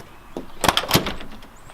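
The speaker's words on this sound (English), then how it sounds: "Let me unlock this door." Van door unlocked and opened, a couple of quick close mechanical clunks and a rattling latch in a short burst, with no talking.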